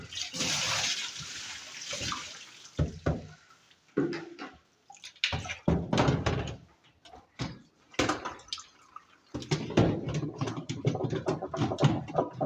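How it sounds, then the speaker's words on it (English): Water splashing and pouring as a washing machine part is rinsed off by hand, in irregular close bursts of sloshing and trickling with brief pauses, ending in a steadier run of splashing. "So I'm rinsing it off so that I can attend to it."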